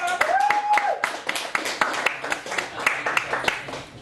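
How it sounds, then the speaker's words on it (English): An audience at a singer-songwriter night at a Chicago café gallery claps for a performer, sharp individual hand claps standing out over a steady crowd patter, fairly near and continuing throughout, with a bright whistle-like tone rising briefly near the start. "I need to applaud this man"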